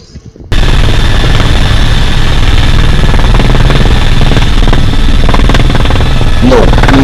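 A helicopter's rotor thumps loudly and continuously from close range over a lake after a brief quiet start, a dense, rapid chopping drone.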